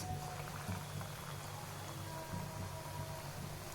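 Gram flour bonda batter dropping into hot oil, a steady bubbling crackle of deep frying over low flame, fairly quiet and continuous with soft pops throughout.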